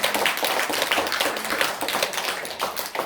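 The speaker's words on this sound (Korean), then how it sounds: "박수 한번 해주세요." An audience claps during a Buddha's Birthday sermon at a Pyeongchang-dong temple, with a brisk, fairly close round of overlapping hand claps that holds steady and then tapers slightly, without speech.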